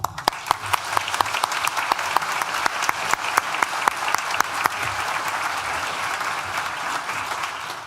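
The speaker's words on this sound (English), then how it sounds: "A round of applause to the band." At a university graduation ceremony, the audience gives the band a sustained round of applause, steady and dense from start to finish with a few sharper individual claps standing out.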